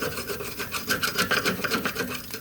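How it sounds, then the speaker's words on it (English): Sand and dirt packed onto a Walker lawn mower frame being scraped off by hand during a blower housing replacement, giving a close, steady run of short rasping strokes with no talk. "It's got a little bit of packed sand and dirt. I'm just going to scrape it off the frame"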